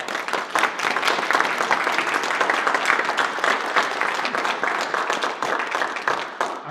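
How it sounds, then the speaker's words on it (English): Sustained audience applause fills the room at a Kansas 1st District Democratic primary debate forum, steady dense clapping at full strength for the whole stretch with no break. "Let's give a round of applause."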